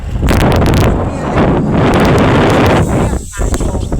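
Strong wind buffets an outdoor microphone during a drive to pick up packs of bottled water, a loud, continuous rumbling roar that surges and dips for several seconds.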